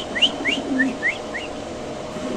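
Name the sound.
male pigeon calling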